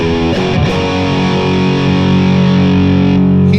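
Electric guitar through its bridge humbucker pickup, a loud distorted chord left ringing in one thick, sustained wash for several seconds, with a brief scrape near the start and no voice over it.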